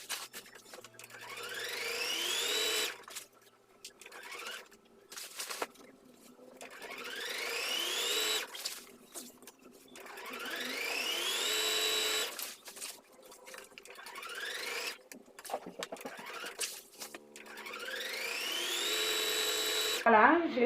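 An electric sewing machine stitches the waistband of a flared skirt in repeated bursts of fast, rising buzzing a few seconds long, separated by short pauses, with someone talking quietly in between.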